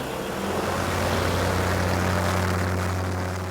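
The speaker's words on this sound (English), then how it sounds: "This is an engine test, and my first taste of throttling up a paramotor." A 25-horsepower paramotor engine runs on a test stand, its propeller roaring loud and close with a steady droning hum that swells slightly as the throttle opens.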